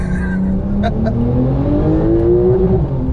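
Porsche 911 Turbo S with four-wheel drive accelerating hard, a loud continuous engine note rising steadily in pitch up through the gears, close and dominant throughout.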